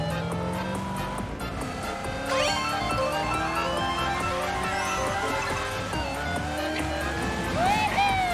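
Mario Kart video game racing sounds: a steady buzzing kart engine drone with pitch sweeps and chirpy effects, loud and continuous under faint game audio.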